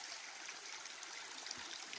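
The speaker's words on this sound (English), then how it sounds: "And there's another little waterfall here." A small waterfall on a forest stream splashes steadily in the Forest of Dean, a soft, even rush of running water that goes on without a break.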